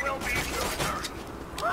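Gunfire in the video game Borderlands 2 comes as dense, rapid bursts of sharp shots and clattering impacts, filling the clip loudly with a few brief tonal game effects mixed in and speech faintly underneath.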